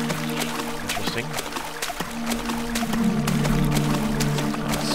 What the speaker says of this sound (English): Splashing around.